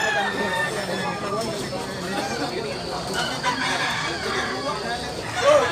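A Super Sweater bullstag gamefowl rooster crows among other fowl at a busy Tabunok, Cebu cockerel market, the calls steady and mid-distance under a constant hubbub of nearby voices and chatter.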